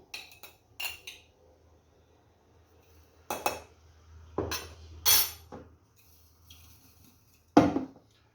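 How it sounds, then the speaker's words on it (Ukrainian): Scattered clinks and scrapes of a spoon against a glass jar as salt is spooned in, several separate taps with quiet pauses between them, close by. "сипемо 3 повних ложки солі столових"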